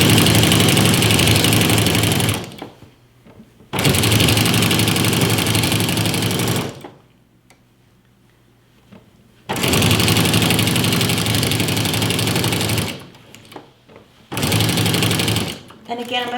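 A sewing machine fitted with a walking foot stitches a pillow in a home studio, running in loud steady bursts of rapid mechanical whirring separated by short pauses, with a quiet gap in the middle.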